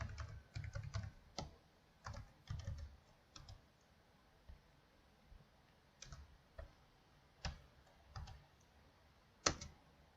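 Code being typed on a computer keyboard: scattered bursts of close, quiet key clicks with irregular pauses between them and no talk.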